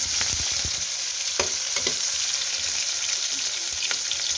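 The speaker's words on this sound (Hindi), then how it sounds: "अब इसमें हमने प्याज डाल दिया है, इसको हम भून लेंगे गोल्डन ब्राउन होने तक।" Onions fry in hot oil in a pan, a continuous loud sizzle with occasional clicks and scrapes of stirring throughout.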